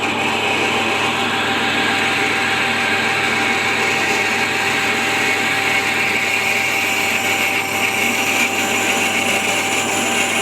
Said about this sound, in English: It always is when you're trying to drill